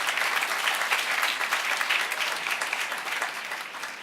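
Audience applause at a university quad introduction and building rededication ceremony, a steady dense crowd clapping that holds loud and even throughout before easing slightly at the end.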